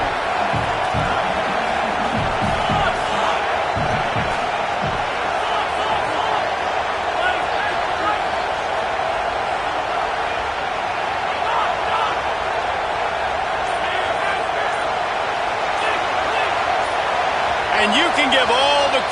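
Loud, steady roar of a football stadium crowd at an OU vs Ole Miss game, sustained throughout with cheering, whoops and scattered thumps, a commentator's voice underneath.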